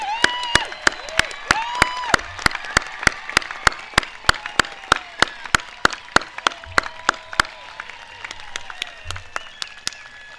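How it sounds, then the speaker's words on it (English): Sustained applause from a graduation ceremony audience honoring graduates, dense steady clapping throughout with sharp individual claps standing out, some cheers and whistles rising over the crowd. "One more round of applause for all of our graduates tonight."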